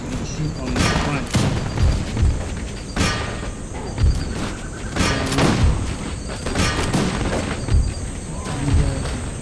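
Musket volleys in Total War: Empire, played with an American Revolution mod: repeated rolling, crackling bursts of massed gunfire with booming thuds, layered continuously under someone speaking.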